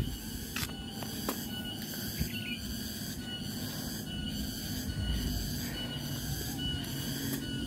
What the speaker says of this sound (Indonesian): Ada bunyi serangga, saya nggak tahu itu namanya apa ya.